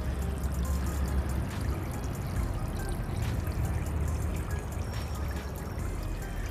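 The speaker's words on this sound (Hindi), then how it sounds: "छोटी मोटर की मदद से, देखिए छोटी मोटर है और ये वाटरफॉल, ताकि थोड़ी सी तो मूवमेंट चाहिए पानी में।" A small motor-driven waterfall spilling into a terrace turtle pond, a steady close splashing and pouring rush of water that continues without a break.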